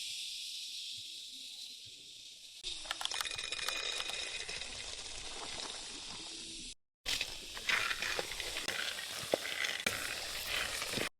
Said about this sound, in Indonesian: Jadi, kita lagi sangrai kacangnya ya.